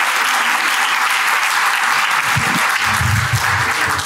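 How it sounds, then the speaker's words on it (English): An audience at a real estate investing panel applauds a panelist called up on stage, a dense, loud, continuous clapping from a crowd that lasts the whole time, with a few low sounds near the end. "Let's give Mike a round of applause, please."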